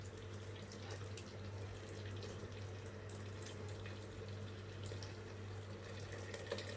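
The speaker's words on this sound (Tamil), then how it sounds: "பாகு அதை நான் அதில் வடிகட்டிக்கிறேன்" Jaggery syrup pours and strains into a large vessel, a faint, steady liquid trickle and splash lasting several seconds with no talking.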